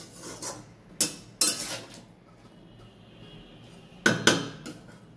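Food is stirred in a pan with a utensil, producing a few separate scraping, rubbing strokes in two clusters with a quiet pause between, close by.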